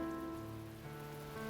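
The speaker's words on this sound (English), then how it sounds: "It's raining outside." Steady rain falling outside in a visual novel scene, a soft continuous patter on surfaces with a constant hiss and no distinct drops standing out, faint and even throughout.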